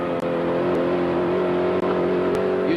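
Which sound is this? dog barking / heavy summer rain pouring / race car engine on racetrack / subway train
race car engine on racetrack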